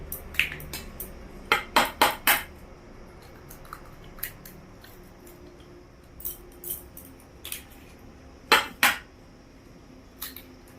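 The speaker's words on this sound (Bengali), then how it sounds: "আমি একে একে সব ডিমগুলো ফাটিয়ে দিচ্ছি চারটা ডিমই দিয়ে দেবো এতে" Eggs cracked one after another against the rim of a bowl, four in all, sharp close taps in quick clusters with quieter handling sounds between, no talking.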